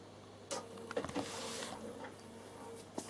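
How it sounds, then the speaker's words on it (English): A Bernina sewing machine re-stitches a seam, giving a steady mechanical whir with a motor hum and a few sharp clicks and bumps near the start and end, close and moderately loud. "I'm just going to re-stitch along there"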